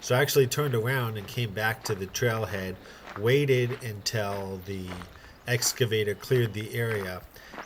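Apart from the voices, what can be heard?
No everyday noises stand out.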